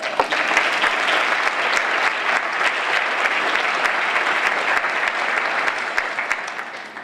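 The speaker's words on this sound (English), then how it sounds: "She deserves the biggest round of applause" Sustained audience applause fills an award ceremony hall, a dense, steady wash of many hands clapping at a constant level for several seconds, with a few sharper claps standing out, slightly tapering at the end.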